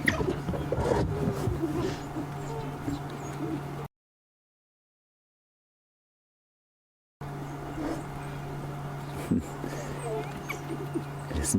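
A pack of African wild dogs on a safari game drive whimpers and gives high twittering calls to one another at moderate distance, mixed with a person speaking. A stretch of silence breaks the sound partway through.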